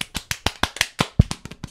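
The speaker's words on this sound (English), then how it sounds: "it sounds like a lot of claps." Quick string of about ten sharp, claplike smacks at a steady, fast pace, each crisp and close, with nothing else between them.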